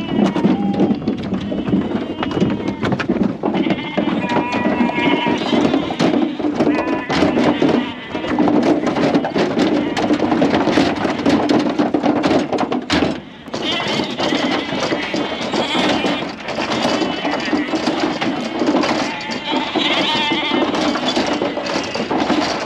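Shetland ewes bleat repeatedly while running out into a field, their calls overlapping near and far over a busy, continuous din of hooves and movement, with a short lull midway.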